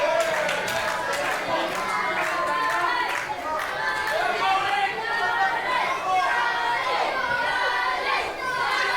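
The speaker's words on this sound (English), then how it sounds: "And this crowd getting behind Danny." Crowd at a live indoor wrestling show in Rayleigh Mill, cheering and chattering steadily for a wrestler named Danny, a continuous dense murmur of many voices with scattered shouts and no single voice standing out.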